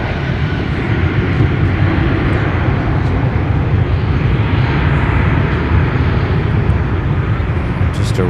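An airliner roars down runway 12 left at Minneapolis airport in winter, a loud, sustained, steady jet engine rumble filling the whole stretch.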